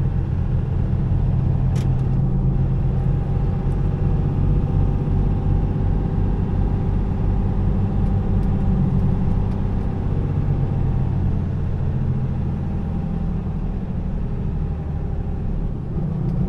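Car cruising at a steady 50 with cruise control engaged, a constant low engine and road rumble heard from inside the cabin, even and unbroken with no talking.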